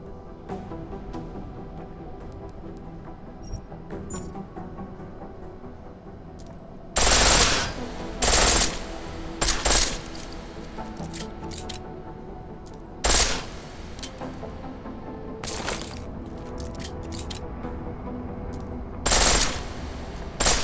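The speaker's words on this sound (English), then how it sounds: "The pistol in full auto will take down targets fast, but it'll burn through your ammo." A pistol set to full auto fires in Deus Ex Mankind Divided. Loud, rapid bursts arrive in short clusters, separated by stretches of quieter background ambience.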